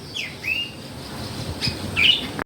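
Pet budgies chirp in a few short, bright calls, close by, with a faint hum of background noise and no talking.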